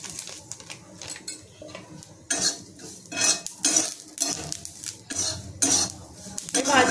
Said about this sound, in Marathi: त्याच्यामध्ये आपण तीळ टाकून घ्यायचे।